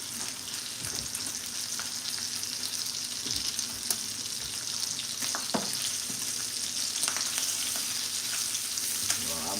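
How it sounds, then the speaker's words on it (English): Bacon frying in a pan gives a steady close sizzle with scattered pops and crackles throughout, with no talking. "I'm making they bacon."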